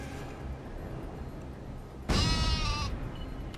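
A cartoon sheep in the Worms Ultimate Mayhem video game gives one sudden loud bleat after steady game background noise.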